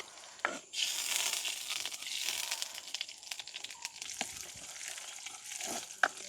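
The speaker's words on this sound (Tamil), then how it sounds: "கடுகு எங்களுக்கு நல்லா வெடிக்க தொடங்கிட்டுது" Mustard and fennel seeds crackle and pop in hot oil for tempering in a village kitchen, a steady close sizzle with sharp scattered pops throughout.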